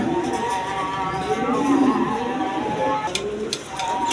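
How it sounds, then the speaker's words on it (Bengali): A pair of white Danish pigeons coos with low, rolling murmurs, close and fairly steady across a few seconds, with other faint bird and room noise around them. "এইখানেও দর্শক এক পেয়ার আপনার ডেনিশ আছে, হোয়াইট ডেনিশ। দেখেন কোয়ালিটি সম্পন্ন কবুতর"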